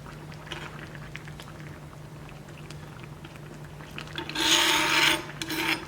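Chicken tagine sauce comes to a boil in a pot, a low, steady bubbling simmer broken by a louder, rasping burst of scraping toward the end.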